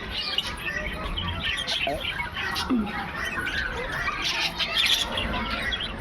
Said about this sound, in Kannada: ಲವ್ ಬರ್ಡ್ಸ್ ಇವೆಲ್ಲ,